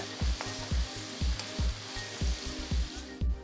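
Onions frying in hot oil to golden brown, sizzling steadily up close, with a regular rhythm of spoon strokes stirring the pan.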